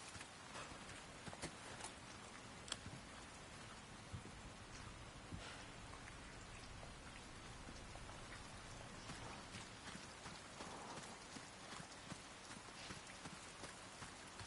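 Heavy rain in the Resident Evil 4 Remake video game, big drops falling steadily, with dense broadband patter, scattered louder close splashes and a low rumble underneath, no voices.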